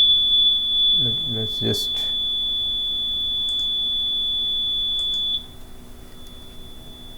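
A buzzer on an ExpEYES electronics board gives a steady high-pitched continuous beep that holds for several seconds and then drops away, while a person speaks briefly over it.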